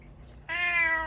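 An orange cat gives one drawn-out, fairly loud meow that starts suddenly partway through and holds to the end, close to the listener with no talking.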